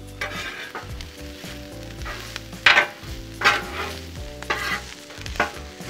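Spicy chorizo and other ingredients sizzling on a Blackstone griddle, a constant loud sizzle punctuated by several sharp spatula scrapes and clacks at irregular intervals, with no voices.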